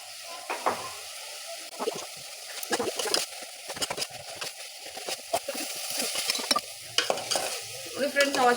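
Ground garlic, ginger and coriander paste frying for pulao, a close sizzle with irregular stirring scrapes and clatters that grow busier toward the end.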